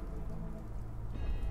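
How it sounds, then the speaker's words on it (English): Steady video game rain pours down in a dense, even hiss, with low rumbling underneath and no voices. "Okay, it's raining now."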